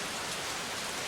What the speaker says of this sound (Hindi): ये बारिश खत्म होने का नाम ही नहीं ले रही।